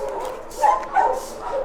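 A female dog at a kennel gives short, close yips and whimpering barks in a quick run, over a busy background din.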